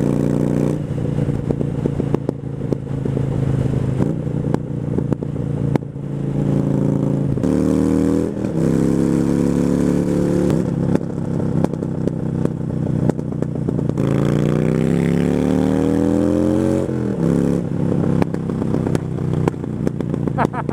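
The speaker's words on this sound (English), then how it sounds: "I don't mind a bit of backfiring, but this is ridiculous." A chopper motorcycle engine runs loud and close with a rough, lumpy idle, blips and revs up several times, and crackles with repeated backfiring pops.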